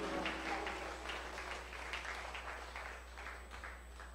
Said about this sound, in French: Jésus, un applaudissement pour ça